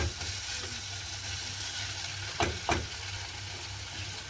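A spiced egg devil mixture sautés in a pan with a soft, even sizzle and hiss close by, interrupted by two quick scraping stirs.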